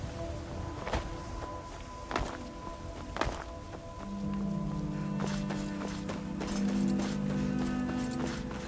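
Horse hooves clop along a road on a fast travel carriage ride in the video game Skyrim, with a few heavy thuds early on and a low droning tone joining partway through.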